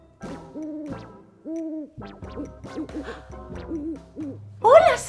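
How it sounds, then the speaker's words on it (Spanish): Owl hoots in a forest setting, several rounded tonal calls repeated in short bursts across a few seconds, fairly close and clear, with a brighter noisy burst near the end and no talking. "¡Hola, señor búho!"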